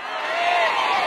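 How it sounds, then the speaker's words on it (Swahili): A church congregation claps and ululates in a steady, dense roar of hands and high voices that fills the whole moment, loud and close with no pause. "Piga makofi na vigelegele."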